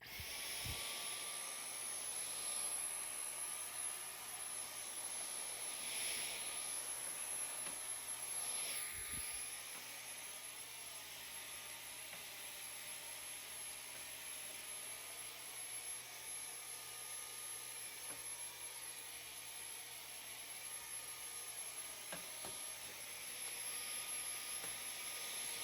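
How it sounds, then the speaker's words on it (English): A vacuum cleaner runs steadily while cleaning plant shelves, a constant high-pitched whine and airy roar that shifts briefly in tone as the nozzle moves, with a few light knocks. "Let's vacuum this up."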